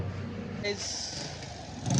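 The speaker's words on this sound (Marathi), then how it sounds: "गाडीचा सायलेन्सर वाजलेला, गाडी सायलेन्सर आवाज मारते" A motorbike's exhaust silencer rumbles and rattles nearby in a brief, fairly quiet burst, with a voice talking over it.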